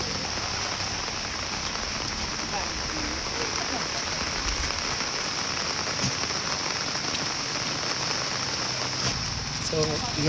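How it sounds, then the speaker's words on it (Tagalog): Heavy rain pours down steadily at a house for the whole stretch, a dense, continuous hiss of drops drumming on surfaces with no pauses. "kay ulan man nga kusog karon"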